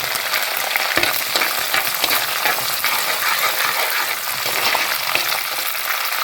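Ginger, garlic and kanthari chilies fry in a pan with a dense, continuous crackling sizzle, broken by a few sharp stirring knocks, loud and close with no voices.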